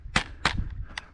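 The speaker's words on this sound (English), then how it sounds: "I'm gonna take a shot right here" Sharp snapping reports from a backyard squirrel hunt, with two quick cracks close together and a fainter third shortly after.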